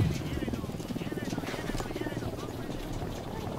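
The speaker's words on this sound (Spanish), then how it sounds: "Ojo, un helicóptero de la unidad." An enemy unit helicopter in Ghost Recon Wildlands thrums with a rhythmic rotor chop, held steady and fairly close, while voices talk over it.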